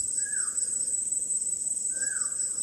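Outdoors, a bird gives two short falling calls about two seconds apart over a constant high insect drone, like crickets, with no talking.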